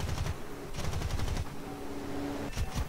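Plane guns firing in War Thunder, a VB-10C fighter carrying ten guns: loud, dense bursts of rapid automatic fire come in three volleys separated by brief lulls, with engine drone running underneath.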